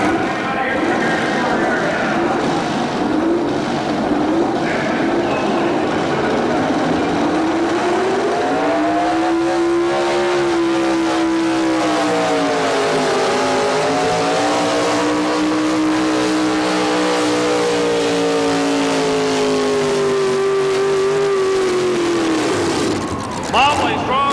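Late-model Chevrolet pulling truck, Mad Dog, at a truck pull, its engine roaring loud and steady for the whole stretch, pitch climbing and dipping as it strains under load, with an announcer talking over it.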